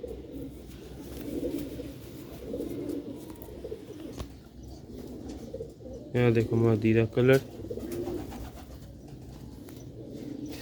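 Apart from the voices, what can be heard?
Sialkoti rooftop pigeons cooing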